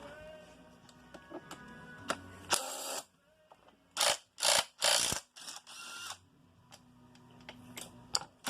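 An impact wrench takes bolts out of a Yamaha YZ250 engine case: several short loud rattling bursts in quick succession, with quieter clicks and ratcheting sounds between them.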